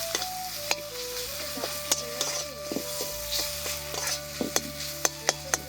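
Spice paste of chili powder, cumin and coriander frying in a pan for palak paneer, a steady close sizzle with scattered sharp ticks and scraping as it is stirred, no voices.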